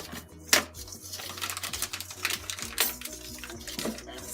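Vegan cake batter is stirred in a bowl, making steady clicking and tapping of a utensil against the bowl with soft scraping, close and moderately loud, with brief talk nearby.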